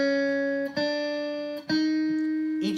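An electric guitar plays a legato phrase of about four sustained notes that connect smoothly into one another, each change marked by a soft attack, heard clearly with nothing else.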